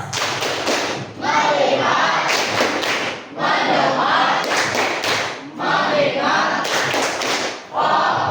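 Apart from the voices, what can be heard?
rhythmic hand clapping by a class of children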